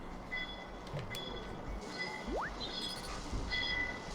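A video game train rumbles past at a steady low level, with faint metallic tones and a brief rising squeal partway through.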